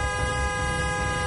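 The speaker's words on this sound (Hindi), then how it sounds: "स्टीयरिंग पे हॉर्न एक ओर से दबा हुआ था।" A car horn stuck on because the steering wheel is pressed down sounds one loud, unbroken steady tone throughout, close and alone.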